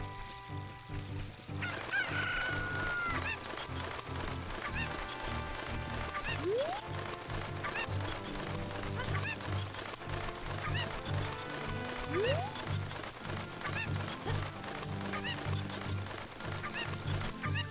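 A chicken in Legend of Zelda: Ocarina of Time clucks and crows in short repeated calls over steady game music, moderately loud throughout.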